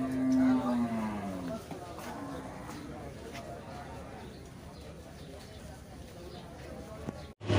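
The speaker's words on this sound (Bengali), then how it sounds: "এই জায়গাটিতে মূলত দেশি মাঝারি আকারের গরু এখানে আসে" A cow lets out a long, low moo near the start at the Gabtoli cattle market in Bangladesh, where medium-sized local cattle are sold, then a busy crowd murmurs and animals shift amid steady background noise.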